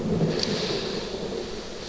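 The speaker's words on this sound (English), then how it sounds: "the faraway rumble of thunder" Distant thunder rolls as a low, steady rumble under a broad hiss of rain or wind, with no sharp crack and no voices.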